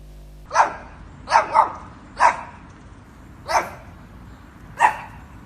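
A dog barks five times, spaced about a second apart, each bark clear and fairly close with quiet gaps in between.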